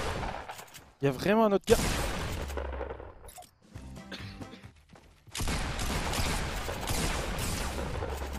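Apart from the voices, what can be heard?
gunshots in a battle royale video game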